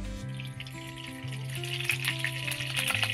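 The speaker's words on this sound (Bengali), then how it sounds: "এবার আমি দিয়ে দেব সর্ষের তেল" Mustard oil sizzles in a hot kadai, a steady hiss that rises and crackles over a background of sustained musical tones.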